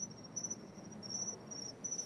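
Crickets chirp steadily in high, faint pulsing trills against a quiet background, with no one talking.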